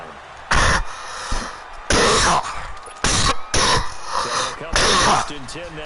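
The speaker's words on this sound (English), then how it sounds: "Hey, guys, I'm really sorry for coughing." A person coughs and clears their throat in a series of loud, close bursts at a Madden 19 game session, each harsh hack separated by short pauses with quieter sound between.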